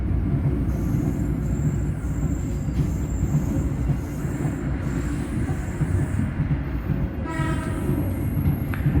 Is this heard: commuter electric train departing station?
yes